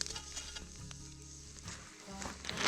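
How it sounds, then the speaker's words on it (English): A chunk of butter sizzles in a pan over a burned-down campfire, a steady close hiss with faint crackle and no talking. "Throw a chunk of butter in there."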